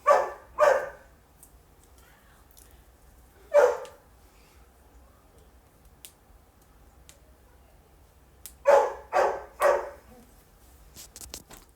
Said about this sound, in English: Sorry, I had to yell at my dog.